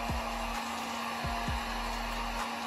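Heat gun blowing hot air onto vinyl film to pre-shrink it, a steady close whooshing roar with a constant motor hum throughout and a few faint thumps as it is handled.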